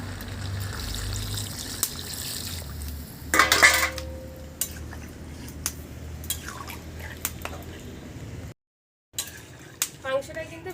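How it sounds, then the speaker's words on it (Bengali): Water is poured into a pot of braised meat with ash gourd in a home kitchen, with clinks of utensils against the pot, soft splashes and dripping, and a person talking at times. "এবার আমি জল দিয়ে দেবো।"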